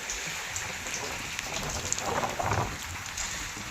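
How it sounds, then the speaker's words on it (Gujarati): Heavy rain pours down over waterlogged farm fields, a dense continuous hiss of drops with a faint low rumble beneath, steady and enveloping. "બહુ સારો વરસાદ આવી ગયો છે આજની તારીખમાં"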